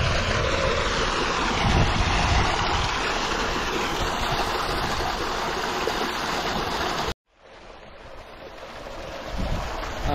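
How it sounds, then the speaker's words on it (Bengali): Water pours from an irrigation pump pipe in a quiet village on a cloudy morning, a thin flow making a steady broadband rush with wind noise over it; the sound drops out abruptly for a moment, then returns more softly. "সেই পানির শব্দ"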